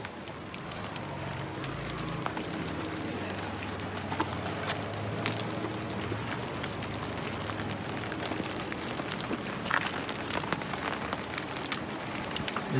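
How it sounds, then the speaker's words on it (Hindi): Steady rain falling outdoors at night, a continuous dense patter of drops striking surfaces with occasional louder splashes, moderately loud and even throughout, with no voices. "बारिश को भी आज ही होना था"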